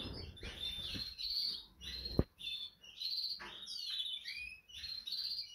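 Several small caged pet birds chirp and tweet in quick bright bursts at close range, broken by short pauses and one sharp click, with no voices.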